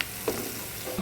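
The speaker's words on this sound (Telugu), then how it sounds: "ఉల్లిపాయలు కొంచెం బాగా వేయించాలండి." Onions frying in oil in a pan, a brief soft hiss of sizzling with a faint stir or two.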